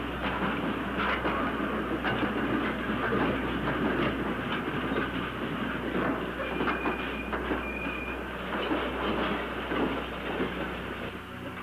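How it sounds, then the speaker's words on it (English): Steam locomotive 92118, a 9F, hauls empty iron ore wagons back toward Bidston docks, giving a loud, continuous rumble of wagons with rhythmic clickety-clack wheel beats and brief faint squeals. "92118 is returning to Bidston docks with empties."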